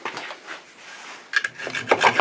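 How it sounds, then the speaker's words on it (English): A pruning saw cuts through wood mounted on a woodturning lathe, starting with soft rubbing strokes and then giving a louder, rougher burst of rasping strokes near the end. "I'm just going to cut it off with a pruning saw"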